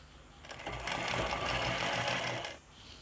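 A sewing machine stitches around the folded edges of fabric being prepared for elastic, a quick close-up burst of fast rattling needle strokes lasting under two seconds.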